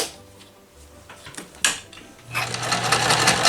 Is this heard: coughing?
no